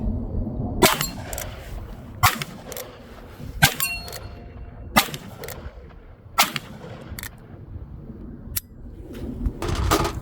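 A Ruger Blackhawk revolver fires heavy gas-check .357 handloads with 9mm bullets, about seven sharp loud reports spaced a second or so apart outdoors, each a crisp crack with a short ringing tail, no talk between shots.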